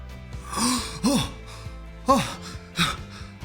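A voice acts out deep, drawn-in breaths and gasping sighs, four swelling breaths in a row, close and clear in a quiet room.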